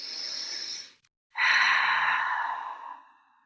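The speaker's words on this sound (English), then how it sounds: "Taking a deep breath in." A deep, slow breath during a guided meditation, a soft airy exhale, a brief pause, then a long, close, smooth inhalation fading out.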